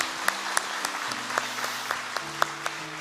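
A church congregation at a Sunday worship service applauds warmly and steadily, with a few sharper claps standing out and a faint voice underneath.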